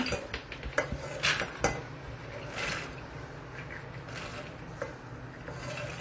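Soaked green peas are tipped into a metal pressure cooker with a few sharp clanks and a clatter near the start, followed by softer scraping and faint knocks in a quiet kitchen.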